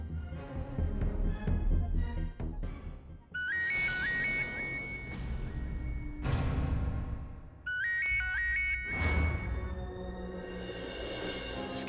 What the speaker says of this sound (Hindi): यहाँ किसी का फोन बजाना?